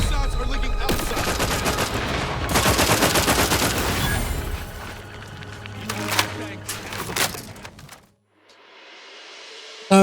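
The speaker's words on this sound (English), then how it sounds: "Shots are leaking outside." Rapid bursts of gunfire from The Outer Worlds 2 fire in dense volleys and echoing single shots, loud and close, with a voice talking over parts of it before a near-silent gap at the end.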